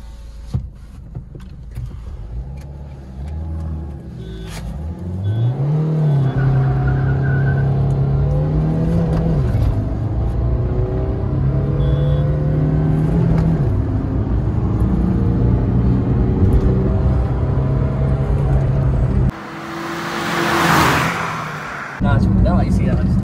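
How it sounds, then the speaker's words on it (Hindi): Two cars, a Swift Dzire 1.2 diesel and a Ciaz 1.5 petrol, in a drag race: steady engine rumble rising through revving gear changes, with a louder roaring pass near the end, heard from inside with people talking. "थर्ड हॉर्न पे गाड़ी आगे निकलेगी दोनों"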